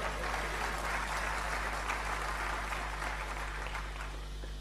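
Steady applause from a church congregation during a sermon fills the room as a dense, continuous patter of clapping that holds at an even level with no voices over it.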